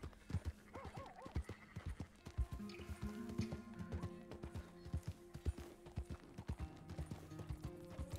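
Horse hooves clip-clopping steadily beneath a ridden horse in the Red Dead Redemption 2 video game, with occasional whinnies and snorts over the rhythmic gait.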